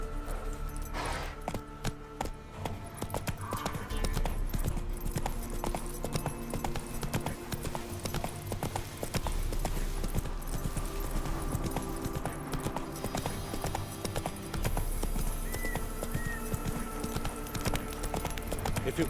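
Horse hooves pounding at a steady gallop in the video game Witcher 3, a continuous rapid clip-clop close by with a faint game music bed underneath and no talk.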